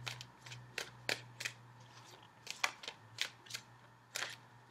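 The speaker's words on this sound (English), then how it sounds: "I will shuffle for just a few more seconds, and then I'll cut the cards." Soft, quick riffling bursts of cards being shuffled, repeated about a dozen times at an uneven pace, quiet and close over a faint low hum.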